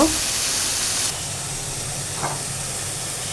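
Tengra fish hit a pan of cooked spice paste with a strong hiss and steady sizzle that drops slightly once they settle, close and loud, with no one speaking.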